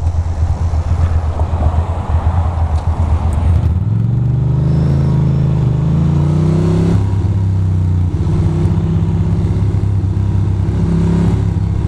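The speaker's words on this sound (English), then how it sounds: "And of course, there is traffic." Road traffic on Route 3 in Nutley, New Jersey rumbles and whooshes past continuously, with vehicles passing close and wind buffeting the microphone throughout.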